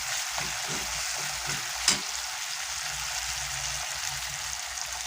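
Spices fry in a pan with melted-down tomatoes for an egg curry, making a steady moderate sizzle with soft stirring scrapes and one sharp clink, and no talking.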